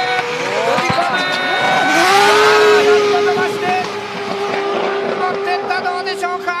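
A drift car accelerates hard at a D1GP event at Autopolis, its loud engine note climbing sharply and then holding high and close, with faint tire noise and an announcer speaking over it.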